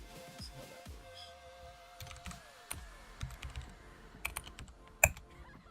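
Typing on a computer keyboard gives quiet, irregular clicks and taps over a faint background hum, with a few sharper keystrokes toward the end.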